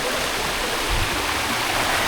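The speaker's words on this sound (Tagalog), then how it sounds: "ito po yung malalim na part ng ilog" The deep stretch of a river rushes steadily past, a loud and unbroken broadband flow close by, with no pauses.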